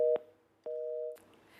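A telephone busy tone after a dropped call line, two clear repeating beeps of steady pitch with short gaps, loud and close, no voices.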